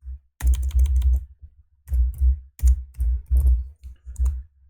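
Fingers type code on a computer keyboard in short bursts of rapid, crisp key clicks separated by brief pauses, close and clear with no other sound.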